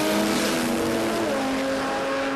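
A Viper V10-engined Datsun 1200 drag car launches at a drag racing event, a loud, sustained high-revving engine roar with rising harmonic tones, heard close and unbroken over the whole stretch.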